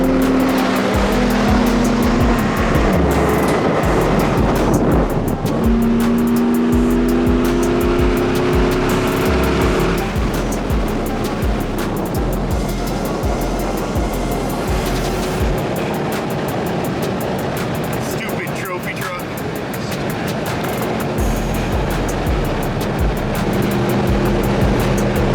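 A trophy truck tearing across a dry lake bed, its engine a loud, sustained roar that rises and falls as it passes close by, with tire and wind noise throughout and no talk.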